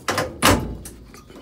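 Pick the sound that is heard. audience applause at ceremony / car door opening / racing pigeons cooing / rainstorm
car door opening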